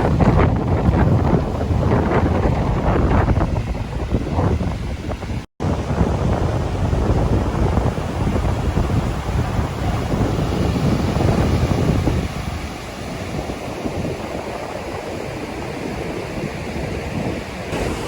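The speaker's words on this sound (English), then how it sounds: "The water is being driven right up onto the beach now." Wind-driven waves wash onto a beach in Langkawi under strong gusty wind buffeting the microphone, a constant loud roar of surf and wind with no voices.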